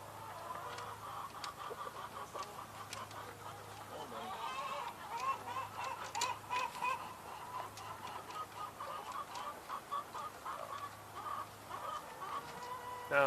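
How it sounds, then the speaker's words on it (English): Chickens cluck in an outdoor farm setting near a truck, with a steady murmur of soft clucks and calls running continuously at moderate distance, no talking. "You're catching the chicken."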